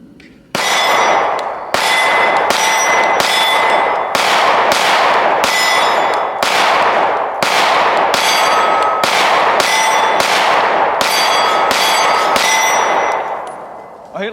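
Rapid pistol fire from a Canik METE MC9 at an outdoor range in cold weather, a long string of loud sharp shots with bright metallic clangs ringing off steel targets, fired in quick bursts with brief pauses.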